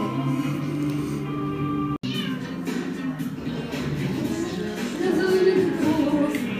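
Several cats in a house meowing loudly and insistently close by, overlapping cries with a brief pause, while people talk in the background.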